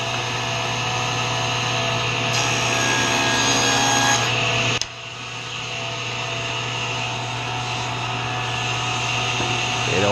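A power saw whines steadily while cutting wood pieces for a herringbone box, then its pitch drops as the cut finishes and it keeps running more quietly.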